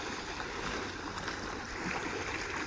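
Water from two tubewells gushes steadily into a farm field of about five bigha. The close, loud rushing and splashing runs unbroken throughout.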